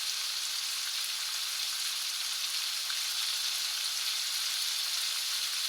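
A Costco Oriental stir fry sizzles in a pan, a steady, loud, close hiss of frying oil that runs unbroken with only faint crackles.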